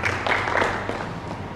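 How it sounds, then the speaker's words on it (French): An audience claps at an Ivorian restaurant awards announcement, a short, fairly even burst of applause with a faint murmur of crowd behind it. "Ici, un applaudissement."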